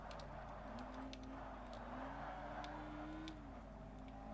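A Lotus Exige race car overtakes a Vauxhall in Forza Motorsport, its engine droning at a steady, slowly rising pitch with faint tire chirps, heard fairly quietly throughout.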